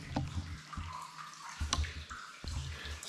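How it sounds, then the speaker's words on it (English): Water drips and trickles in a rock cave, seeping through cracks, with scattered close drops and splashes over a steady wet wash, fairly loud and close. "It's literally leaking through cracks in the rock."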